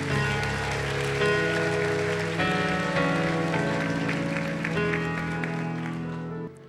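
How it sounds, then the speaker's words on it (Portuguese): A church congregation applauds during an evening service, a broad patter of clapping over sustained music with steady tones, loud throughout and cutting off near the end. "Dê o melhor aplauso, você pode dar ao Senhor."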